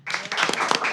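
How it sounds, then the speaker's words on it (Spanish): Applause greets a guest on a university leadership podcast, a short burst of clapping with some voices mixed in. "Démosle la bienvenida con un fuerte aplauso a nuestro invitado"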